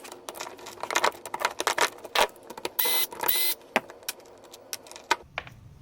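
A chain hoist hook for a Chainmaster SB4.1/12J is opened, with a run of close metallic clicks, rattles and small tool scrapes as the screws are undone, plus one brief burst of a power tool in the middle.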